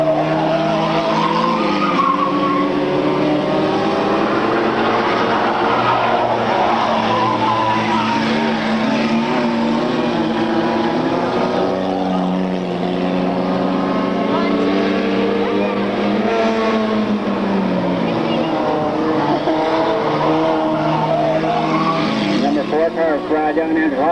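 Race cars circling a track at a 1997 race meeting, engines roaring continuously and loudly with rising and falling pitch as they pass, tires squealing, a commentator's voice running over the noise.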